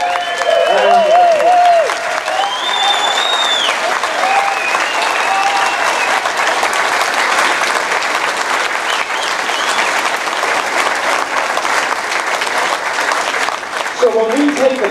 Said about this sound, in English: Let's give them a really awesome round of applause.